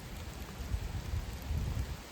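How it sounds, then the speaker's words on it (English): Rain falling in an English woodland, a soft, steady patter with no voices. "the falling of the rain"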